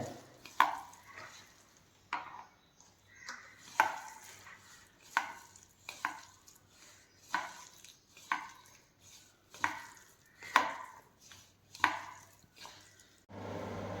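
Mango pieces are mixed and rubbed by hand with a spice paste for mango curry, making soft, rhythmic wet slaps and knocks roughly once a second against the bowl, close and unaccompanied by talk.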